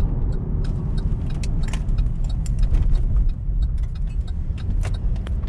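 A Chevrolet car cruises at 55 mph with a slight shimmy in the wheel, making a steady, loud road and engine rumble inside the cabin with light jangling rattles throughout.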